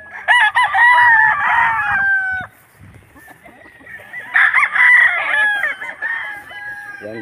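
Bolik roosters at a chicken market crow twice, close and loud, each long call drawn out, with a short lull between them and faint market noise underneath.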